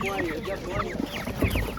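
Broiler chickens at a Ukrainian poultry market cluck and squawk in quick, overlapping bursts close by, with brief market background noise throughout.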